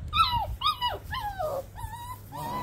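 A puppy that has fallen into a waterway whimpers and yelps in a run of high, falling cries, fairly close, with no talk over it.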